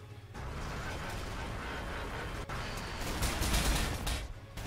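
Units fire their weapons in the video game Warhammer 40k: Sanctus Reach, a sustained roar of overlapping gunfire with clanking mechanisms, building in intensity with heavier bursts toward the end.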